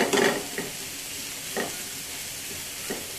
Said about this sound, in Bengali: পেঁয়াজটা কিন্তু আমরা ভাজবো না, এটা শুধু তেলগুলোকে একটু, শুটকির যে তেলটা ভাজা হয়েছে ওই তেলটা একটু গায়ে গায়ে করে নিচ্ছি।